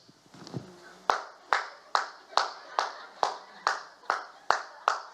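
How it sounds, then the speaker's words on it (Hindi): A worship congregation claps in unison, about a dozen sharp, evenly spaced claps in a steady rhythm after a brief murmur, fairly close and clear. "ताली बजती है।"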